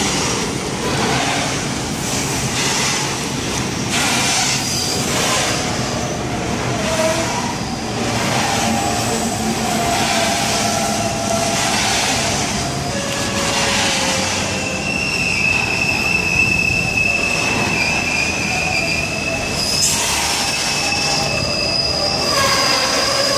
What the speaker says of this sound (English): This is the grain train, not a freight train